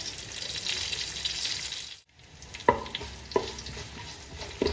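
Shallots, dried red chillies and curry leaves frying in hot oil for Kerala-style tapioca, a bright hiss that briefly drops out, then returns with a few sharp scrapes and crackles, close and moderately loud.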